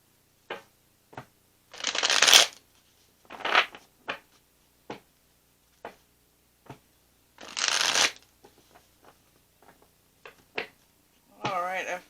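Tarot cards shuffled by hand in several separate riffling bursts, close and crisp, with short gaps and light handling taps between them.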